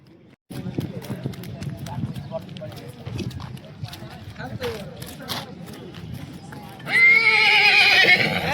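At the Yeola horse market, a young horse neighs loudly near the end, a long shrill whinny, after stretches of hoof clopping and shuffling movement close by.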